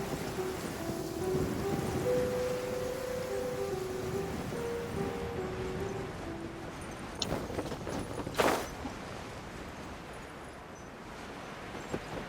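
Steady rainfall from a Genshin Impact scene fills the whole stretch with broadband hiss, with a sharp louder burst near the end that may be thunder. A faint tonal melody line runs underneath.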